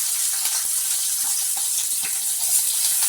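Onions sauté in hot oil with mustard seeds, urad dal and garlic while tomato thokku is cooked, producing a loud, continuous close-up sizzle with faint crackles and no talking.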